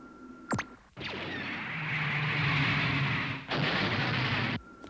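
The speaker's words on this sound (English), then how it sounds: "Fire laser cannons. Full power!" A short zap, then two long, loud roaring blasts of sci-fi laser cannon fire at full power from the animated series He-Man, the second cutting off abruptly.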